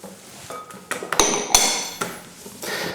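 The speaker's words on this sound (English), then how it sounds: "we just keep giving it a good old whisk while we're doing it" Madeleine batter with lemon juice being whisked in a bowl, with irregular clinks and scrapes of the whisk against the bowl rising and falling, close up with no talking.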